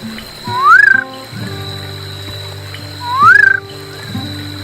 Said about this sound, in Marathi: कॅसल रॉक नाईट फ्रॉग या नावानं हा बेडूक ओळखला जातो.